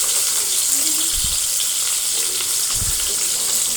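Tomatoes and onions frying in a pan with tamarind for a ridge gourd chutney, a steady sizzle throughout with a couple of low bumps from stirring or movement in the pan.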